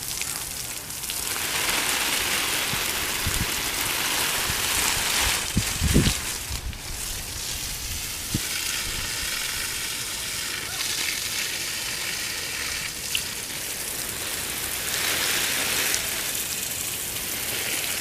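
Plants in a hot, dry garden are watered with a spray, a steady broad hiss of water hitting leaves and soil, with faint background sounds and no clear talk.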